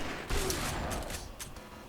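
Dense rapid gunfire bursts in The Punisher video game, a loud sustained barrage of shots with a heavy crack near the start.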